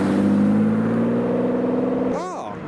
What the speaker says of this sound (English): And an Aston Martin Vanquish leaving the show.